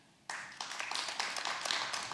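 Sparse, weak audience applause in a theater after a call to clap for Montana, a thin scattering of claps that starts abruptly and carries on at a modest level.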